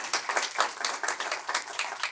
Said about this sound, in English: applause for Manuel for being with us